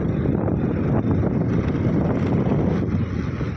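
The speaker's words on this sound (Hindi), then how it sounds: "धूप तो नहीं है लेकिन हवा चलते रहता है" Wind blows outdoors in hilly Meghalaya, a loud, constant rushing roar buffeting the microphone with no pauses and no voices.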